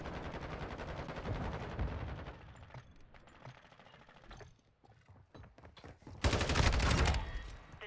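LACHMANN 556 assault rifle firing in Modern Warfare 2, loud rapid automatic bursts close by, a stretch of quieter clicks and mechanical handling, then a final heavy burst near the end.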